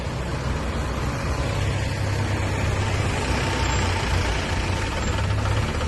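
Congested road traffic near a road excavation beside Khadki Railway Station, with the dense, continuous rumble of trucks and idling engines filling the scene without pause.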